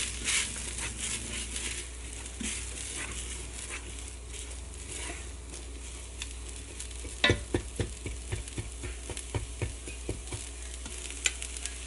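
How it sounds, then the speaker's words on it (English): Soft frying sizzle of garlic in a Ninja Foodi pan with scraping stirs and light clatter, growing busier toward the end; fairly quiet and close. "it's beginning to sizzle there"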